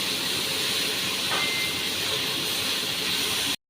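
Tomato curry with turmeric sautéing in a pan: an even, loud hiss of frying held steadily throughout, then cutting off abruptly at the end, with no voices.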